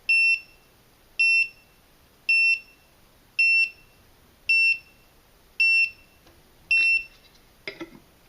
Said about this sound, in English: So this is the low alarm, and you can see here it's slowly going down now.